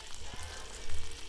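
An egg fries in butter in a pan, giving a steady close sizzle and crackle with a couple of faint low bumps, no voices.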